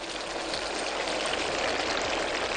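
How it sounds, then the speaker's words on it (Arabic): Water is poured into a pan of diced potatoes, a steady close splashing hiss lasting a few seconds with no talk. "هحط شويه ميه تسوي لي البطاطس"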